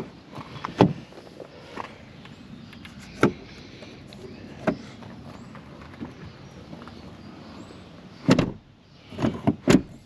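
Door of a Bailey Adamo 75-4i motorhome van being shut, heard as several sharp, separate knocks and thumps spread over ten seconds, with quieter handling noises between them and no talking.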